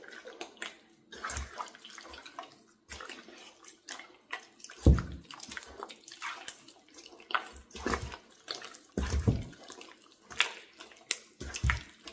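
Water dripping and splashing in scattered drops and small pours while injera is being prepared, with irregular close splashes and trickles and no talk.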